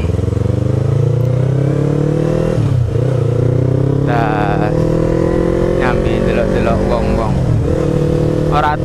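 Steady, loud motorcycle engine drone while riding along a street, the pitch rising and dipping with throttle changes, with a voice talking over it.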